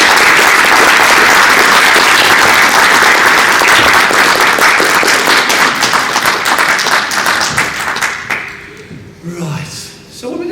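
A convention crowd at a Star Wars Celebration panel applauds loudly and steadily for about eight seconds before the clapping fades, giving way to voices talking.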